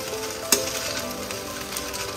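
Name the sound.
food being stirred in a pan on low flame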